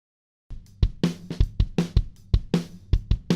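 Drum hits after a brief silence: deep kick thumps alternating with sharp snare cracks in a steady, close, loud groove, no voices.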